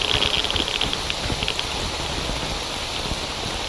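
Steady rain in the video game STALKER Anomaly, a dense, even hiss of drops pattering on surfaces that continues without a break and fills the whole scene.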